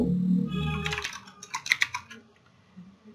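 Fingers typing code on a computer keyboard, a quick cluster of close, crisp key clicks after a brief low hum, then trailing off into quiet.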